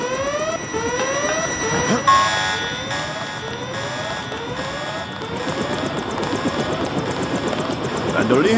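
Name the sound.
helicopter arriving in a video game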